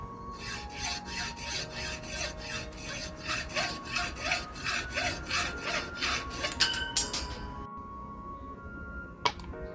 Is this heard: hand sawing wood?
yes